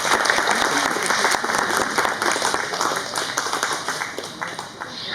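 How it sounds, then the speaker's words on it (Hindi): A crowd at the Vidyapati Samaroh cultural event in Singapore applauds honored guests on stage, a dense, loud wash of many hands clapping that fades slightly toward the end, with some voices underneath. "तालियां बजती रहनी चाहिए।"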